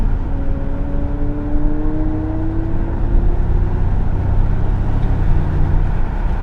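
McLaren 765LT supercar heard on the road as a loud, steady engine drone with rising tonal whine, up close and without voices.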